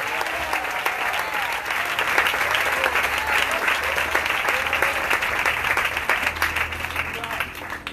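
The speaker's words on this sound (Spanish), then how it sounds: "Dale fuerte ese aplauso al Señor." Sustained, loud applause from a congregation at an evangelistic revival campaign service, steady dense clapping with crowd noise filling the full stretch, with voices mixed in.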